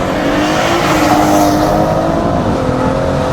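A BMW M140i tuned to stage 2+ with about 480 bhp accelerates hard on a drag run, its engine roaring loud and close as the pitch climbs steadily with no talk over it.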